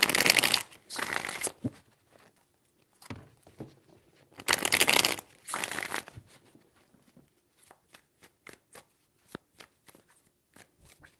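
Tarot cards are shuffled close up in several crisp riffling bursts separated by pauses, followed by a string of light taps and flicks, with no talk.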